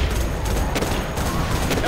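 Sniper gunshot in the C&C Generals strategy game, set within a steady clatter of gunfire, with a couple of sharper cracks standing out over the continuous din.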